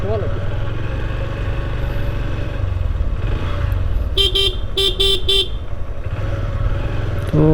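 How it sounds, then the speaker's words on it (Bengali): Motorbike riding along a road near a village market, with steady engine and traffic rumble throughout, a few sharp horn toots in a quick cluster midway, and passing vehicle noise around it. "বাইকের উপরে বসে বাইক চালাইতেছি"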